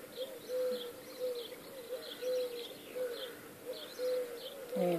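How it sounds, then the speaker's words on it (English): A pigeon or dove in a garden coos in soft repeated phrases, a steady rhythmic hooting at moderate distance, with faint chirps from other birds in the background. "there's a bird sitting on my pot."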